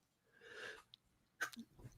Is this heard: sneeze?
yes